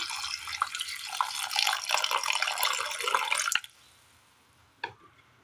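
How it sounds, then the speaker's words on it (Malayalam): Water runs steadily into a cooking pot holding papaya and onion for a few seconds, a loud splashing pour that stops abruptly, followed by a single faint clink. "ഇതിലേക്ക് വെള്ളം കൂടി ഒഴിച്ചു കൊടുക്കാം"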